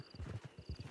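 Horse hooves clip-clop in a steady trotting rhythm in the game Red Dead Online, close and fairly loud, with no talk over them.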